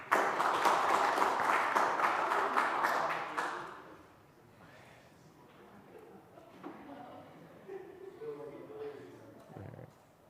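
A student senate meeting audience claps loudly and steadily for about three and a half seconds before it fades, leaving low room noise, rustling and a few distant voices.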